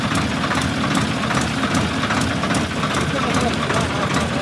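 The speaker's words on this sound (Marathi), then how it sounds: "एक ट्रॅक्टर अडकलं आणि दुसरा त्याला बाहेर खेचतोय" A tractor engine drones steadily with a low, pulsing throb as it strains to pull another tractor stuck in deep village mud with a belt, voices talking over the continuous loud rumble.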